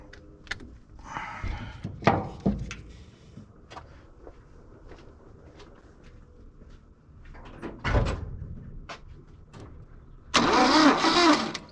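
A 1967 Toyota Stout's engine cranking over, a loud rough churning burst near the end, after a stretch of scattered clunks and metallic knocks around the truck.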